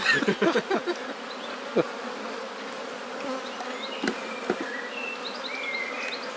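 Close, steady buzzing of many honeybees during a shook swarm, some on the lens, with a few louder bumps and brief rising tones from insects flying near.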